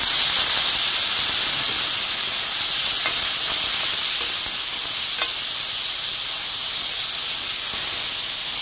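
Small chopped pumpkin pieces go into a pan of hot oil, giving a loud, steady hissing sizzle with a few faint knocks along the way and no speech.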